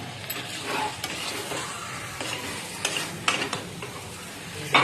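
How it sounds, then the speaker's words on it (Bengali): Hot mutton stirring and sizzling as it goes into a pressure cooker, with soft scraping, crackling frying and a few light clinks of utensil against metal, close and moderately quiet. "গরম গরম গরম গরম মাংস প্রেসার কুকারে চলে যাচ্ছে"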